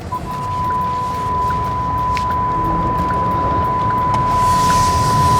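A steady, thin electronic beep sounds continuously inside a VinFast VF6 Plus car, a fault alert holding one pitch over low cabin rumble and road noise.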